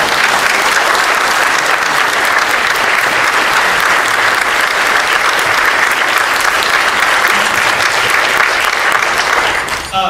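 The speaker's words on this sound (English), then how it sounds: "Let's have a round of applause for all." Sustained loud applause from a forum audience for Alaska State Senate candidates, a dense steady wash of many hands clapping for the full stretch with no break, tapering slightly at the very end.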